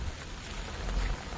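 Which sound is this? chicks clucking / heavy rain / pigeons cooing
heavy rain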